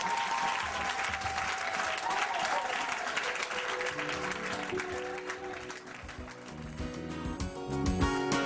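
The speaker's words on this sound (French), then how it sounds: "Applaudissez pour le Seigneur." Gospel concert audience in Johannesburg applauding steadily throughout, a dense wash of clapping with crowd noise and some voices mixed in, music rising toward the end.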